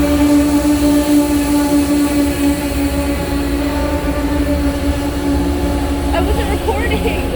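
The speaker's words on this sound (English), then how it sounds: "This train's going to Boston." A train sits in a New York City station, its steady low rumble and hum loud and continuous, with a brief higher hiss or squeal near the end and voices talking nearby.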